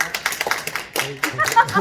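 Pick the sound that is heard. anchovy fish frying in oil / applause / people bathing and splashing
applause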